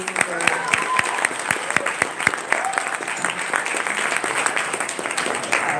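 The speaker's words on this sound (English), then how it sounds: "I'll give another round of applause" Sustained applause from an audience at a live breakfast gathering, dense steady clapping with sharp individual claps standing out, filling the room at a fairly loud level throughout.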